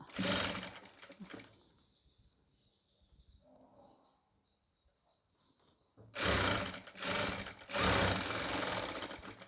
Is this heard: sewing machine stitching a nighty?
yes